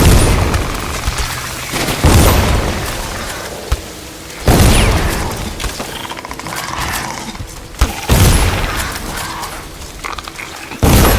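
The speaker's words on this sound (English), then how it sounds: "Go ahead and take some shots at them." Gunshots fired at enemies in Dishonored, several loud booming blasts spaced a couple of seconds apart, each trailing into rumbling noise and mechanical clatter.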